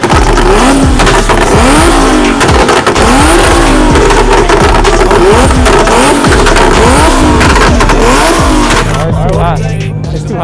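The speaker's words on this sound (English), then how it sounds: "It's like the freaking loudest car I've ever heard, bro." A very loud car with a Toyota 2JZ-GTE engine revs hard and continuously up close, its throttle swells rising and falling in repeated bursts before settling toward a steadier rumble, with people talking over it.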